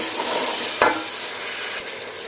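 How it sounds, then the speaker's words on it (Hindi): Garlic, ginger and whole spices fry in hot oil for an egg kofta curry, with a steady close sizzle and one sharp scrape of a spoon stirring the pan. "ये जो लहसुन अदरक और साबुत मसाला है ये मैं ऐड कर दूंगी इसमें। और इसको अच्छे से मैं भून लूँगी।"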